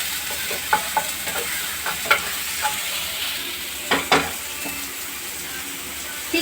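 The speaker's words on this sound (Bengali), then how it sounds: "এরপরে টমেটোটা একটু ভাজা ভাজা হয়ে গেছে।" Tomato and onion fry in a pan while being stirred, with a steady sizzle and repeated sharp scrapes and clicks of the spatula close by.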